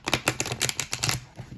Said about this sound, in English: Let me go ahead and shuffle these for you guys.